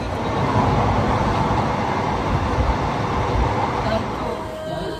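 A train running on a trip to Maa Tarini Temple in Ghatgaon, Kendujhar, giving a loud steady rumble and rattle throughout, heard from close by, with people's voices mixed in.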